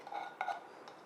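A spoon stirs cocoa powder, oats and homemade nut milk together in a bowl for a sugar-free, flourless, eggless brownie, giving a short run of soft scraping with a couple of brighter clinks against the bowl.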